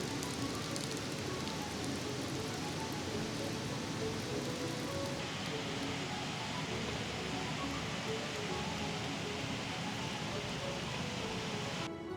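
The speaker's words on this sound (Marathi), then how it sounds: "पाऊस आला बघा जोरात." Heavy rain pours steadily outdoors near a riverside cooking spot, a dense continuous hiss of drops striking surfaces that holds loud and even throughout, with no voices.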